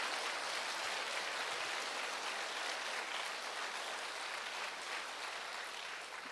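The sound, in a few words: audience applause at a church conference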